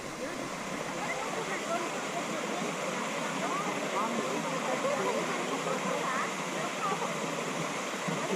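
Gozalandia waterfall in San Sebastián, Puerto Rico roars as a steady, dense rush of falling water, loud and continuous throughout, with faint voices in the background.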